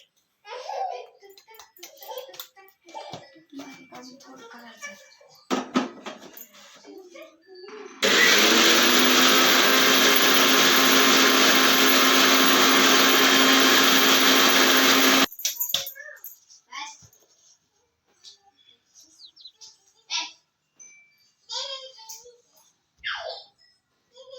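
Electric mixer grinder whirring loudly and steadily for about seven seconds as it grinds tea masala powder in a home kitchen, with a child babbling and laughing before and after.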